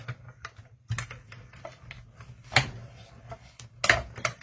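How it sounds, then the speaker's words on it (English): A mini cutting and embossing machine cutting a paper layer for card stamping makes a quick run of dry clicks and ratcheting taps, with a couple of sharper snaps, close and fairly quiet. "I'm going to use my mini cutting and embossing machine, and we're going to go and cut our layer."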